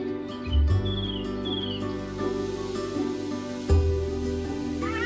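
Scattered bird chirps and tweets over a quiet outdoor background at a bay, with a couple of soft low thumps.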